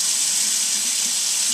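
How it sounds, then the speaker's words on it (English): A kitchen tap runs steadily at full flow in a constant, close hiss of water with no pauses. "I'm turning the water on"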